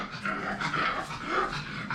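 A dog vocalizes close by in an outdoor yard in Angeles City, Philippines, with low growly whines and panting sounds running continuously through the moment, no talk over it.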